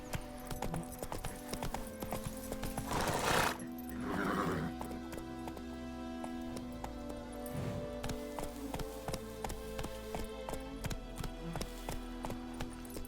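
A horse in the video game The Witcher gallops with a steady clip-clop of hooves throughout, and there are a couple of neighs near the start, over background music.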